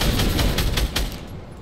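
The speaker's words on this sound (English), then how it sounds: "Oh, that person had the submachine gun." Rapid submachine gun fire in Fortnite: a fast, even string of loud close-range shots for about a second, fading into background noise.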